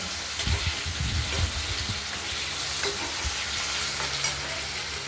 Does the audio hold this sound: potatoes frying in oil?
yes